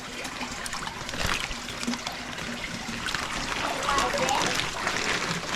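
Farm-raised channel catfish are released into a pond, with water trickling and lightly splashing up close under faint voices.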